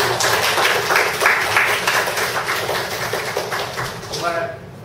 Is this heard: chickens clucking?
no